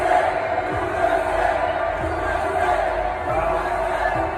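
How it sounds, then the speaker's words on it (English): A large overflow crowd gathered outside a political rally venue in Minnesota, a steady, dense murmur of many voices with scattered shouts, continuous and fairly loud without clear breaks. "This is the overflow crowd."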